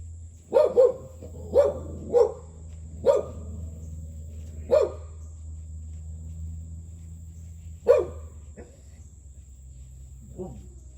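A shop dog barks in a few sharp, close bursts, with clustered barks early on and single barks spaced out after, over a steady low hum and a high whine.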